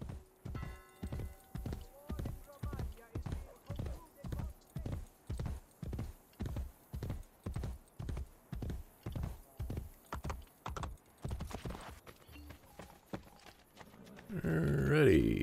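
A horse trotting in Assassin's Creed Brotherhood gives an even, rapid clip-clop of hooves, loud and close, slowing and fading near the end before a burst of other game noise, with no talking.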